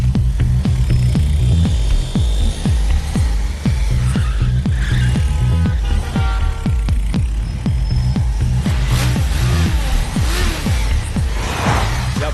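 A large vehicle being driven, with a loud, steady, close engine roar that pulses rhythmically throughout and no voices over it.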